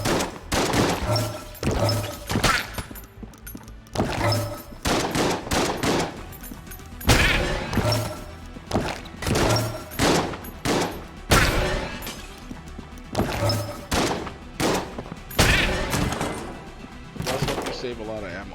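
Repeated shots from a soul-stealing gun in Enter the Gungeon, fired in quick irregular bursts of sharp, loud cracks spread through the whole stretch with brief gaps, under busy game sound effects.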